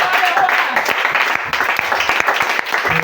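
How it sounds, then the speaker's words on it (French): A church congregation applauds and cheers loudly in praise, dense clapping mixed with voices filling the room for a few seconds. "Est-ce qu'on peut acclamer très fort le Seigneur?"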